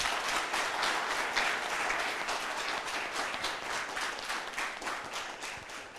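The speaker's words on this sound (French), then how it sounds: "Amis jeunes, on peut s'applaudir une fois de plus." An audience on a studio set at a youth event applauds steadily and evenly throughout, with the clapping heard at a moderate distance.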